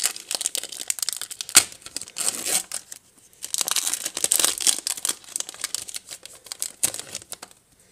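Crinkly foil wrapper of a Pokémon card booster pack from a Xerneas collection box being torn and crumpled open, close and fairly loud in irregular bursts with short pauses, no speech.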